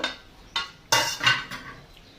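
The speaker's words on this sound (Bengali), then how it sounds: "তো আর একবার ঢাকনাটা খুলে দেখবো আমি।" Metal lid lifted off a cooking pot while sour shol fish curry simmers, giving a few sharp clanks and clinks close up, the loudest pair in the middle of a brief burst, with no talking.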